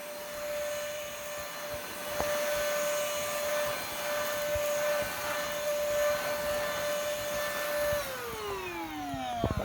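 A budget £20 battery-powered cordless hoover runs with a steady, close whirring whine and airy rush, then its pitch slides down sharply as it winds down near the end; nobody speaks.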